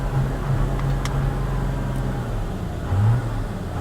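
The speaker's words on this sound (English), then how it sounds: "That's why I'm in the truck. It's running." An old truck engine runs close by, its low rumble rising in a couple of brief revs over a steady idle.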